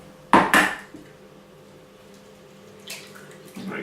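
A raw egg is cracked into a bowl for meat and rice stuffed pepper batter: two sharp close knocks of shell on the rim, then a quieter wet drop and faint clinks after a pause.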